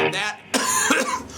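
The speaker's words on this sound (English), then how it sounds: "excuse me, I'm sick, I keep coughing" A short cough from a sick man bursts out, followed by a throat-clearing sound, close and fairly loud, with talking on either side.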